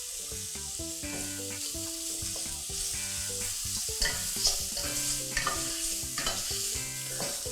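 Shrimp and squid stir-fried in a pan for Thai seafood noodles, a dense close sizzle with repeated spatula scrapes and clacks quickening in the second half, no talking.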